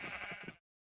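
A sheep in a pen in a video game gives one short, close, wavering bleat that cuts off abruptly.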